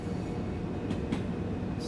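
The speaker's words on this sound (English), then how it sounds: "We're going to take the ice train out" An ICE train runs in Train Sim World 2, a brief, steady rolling rumble of the train in motion with a couple of soft swishing passes, close and continuous.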